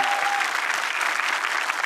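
Steady, dense applause from a large studio audience at a televised talent show semi-final, continuous and fairly loud without a break.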